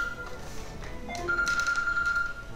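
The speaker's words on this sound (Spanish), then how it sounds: "¿Y ese es mi móvil?" A mobile phone rings during a reaction to a Sony game conference: a thin, steady electronic tone sounds briefly, pauses, then holds for about a second over faint background noise and muffled voices.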